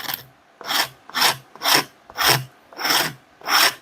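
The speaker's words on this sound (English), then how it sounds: "It's a Shinto rasp." Shinto rasp filing metal on the head of a True Temper Flint Edge Pulaski axe, six rhythmic rasping strokes with short gaps between them, loud and close.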